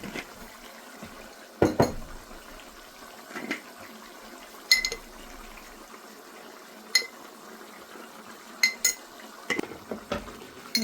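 A spoon scrapes and clanks against a cooking pot while spinach chicken curry is stirred, giving sporadic metallic knocks and soft wet mixing sounds, close by and with no speech.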